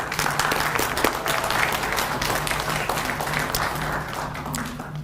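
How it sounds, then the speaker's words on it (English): Audience applause for volunteer grant adjudicators at a public input session in Valemount, a steady wash of many hands clapping at moderate loudness with no speech over it. "I think we should all just give them a round of applause for their time."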